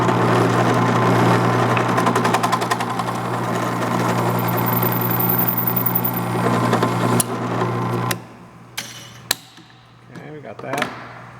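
A reamer working through a clamped, aligned hole gives a steady, loud mechanical drone that holds for about eight seconds, then cuts off, leaving a few sharp knocks and clicks.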